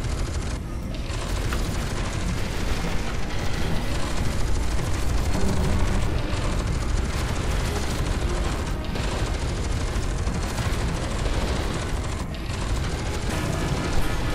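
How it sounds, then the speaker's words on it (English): Missile explosions in the video game F.E.A.R. 2 roar as a dense, continuous wall of blasts, rumble and mechanical clatter, loud and sustained throughout. "Oh, got missiles this time."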